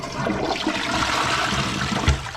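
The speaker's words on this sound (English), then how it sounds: "This is about the 5th flush." A toilet flushing in a bathroom during a ceiling leak test, a loud, close, steady rush of swirling water with a brief surge near the end, no talking.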